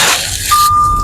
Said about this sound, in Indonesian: seatbeltnya belum dipakai. Ntar dipakai dulu biar nggak berisik.